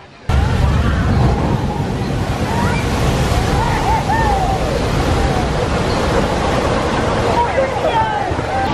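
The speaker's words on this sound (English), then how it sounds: "I have to show this splashdown every time I'm here." Splashdown of a theme park water ride at Universal's Islands of Adventure, a loud, sustained rush of churning water and surf-like spray that fills the scene from start to finish, with crowd voices mixed in.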